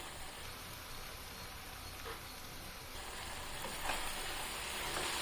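Chicken masala fry cooking dry on high flame gives a continuous dense sizzle and hiss, steady and close, growing slightly louder toward the end.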